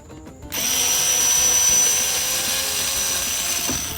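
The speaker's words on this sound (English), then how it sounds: "So now you need to remove these two screws here." A power drill or driver whirs steadily and loudly, starting abruptly after a short quiet moment, as screws come out of a Buick LaCrosse dashboard radio panel.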